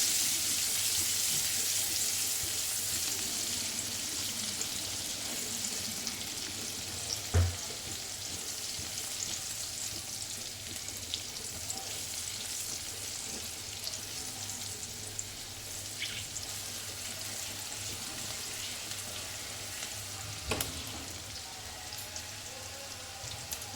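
Garlic and green chillies frying in a pan for a green moong curry, a steady close crackling sizzle held throughout, with occasional sharp clinks of a utensil and no speech.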